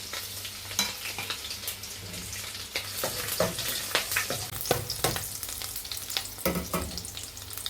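Red and green chillies fry in hot butter and oil for a palak paneer, a steady close sizzle broken by clattering stirs and scrapes of a spoon in the pan, with no one speaking.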